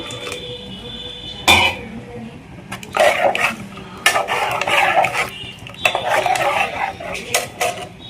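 Coconut milk is stirred into chicken keema sambar in a cooking pot, with a spoon scraping and clinking against the metal in irregular bursts. It sounds close and moderately loud, with no talk.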